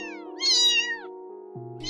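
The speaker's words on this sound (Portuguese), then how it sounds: "Porque eles só estão miando." Cartoon cats in the Super Bear Adventure video game meow twice, a clear high-pitched mew followed by the start of another, over a steady game music background.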